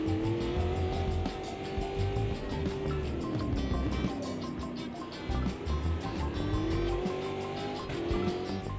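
A racing video game car's engine drones steadily throughout, its pitch rising and dipping with revs, with tire squeal and road noise layered close and loud.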